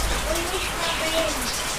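Heavy rain falls steadily in Naga City, Bicol, Philippines, a loud, close, continuous hiss and patter with faint bird coos in the background.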